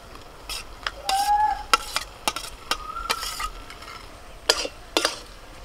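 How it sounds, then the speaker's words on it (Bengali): Chopped eggs stir-fried with a spice paste in a pan for egg kima, with a spatula stirring and scraping in irregular knocks over a light sizzle, close by and without speech. "মশলাটা বেশ ভালো করে কষিয়ে নিয়েছি, এবার এর মধ্যে আমি ডিমটা দিয়ে দেবো, কুচনো ডিমগুলো"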